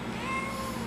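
A house cat lets out a single drawn-out meow, clear and close, with a falling tonal pitch and no talking over it.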